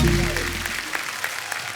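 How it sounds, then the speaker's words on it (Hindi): A studio audience at a comedy talk show claps loudly for arriving guests, a dense burst of applause that fades over a couple of seconds, with a low musical tone and voices at the start. "जोरदार तालियां हमारे सब मेहमानों के लिए।"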